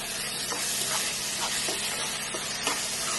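Ginger, garlic and cumin paste fries in a pan for mutton curry, a dense continuous sizzle with a utensil scraping through it roughly every half second, close and fairly loud.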